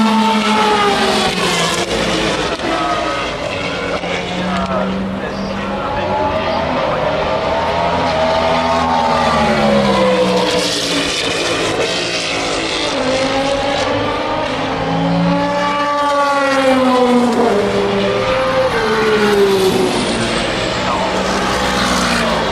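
Race cars roar past the Tertre Rouge corner at Le Mans, with overlapping engines rising and falling in pitch as they accelerate and shift, loud and continuous over about twenty seconds.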